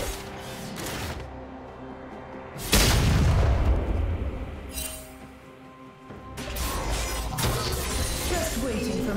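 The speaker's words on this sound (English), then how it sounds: "Blue team's turret has been destroyed." A turret is destroyed in League of Legends with a loud crashing boom and a shattering burst that rings out over a steady game backdrop, followed later by further impact noise while an announcer-style voice speaks.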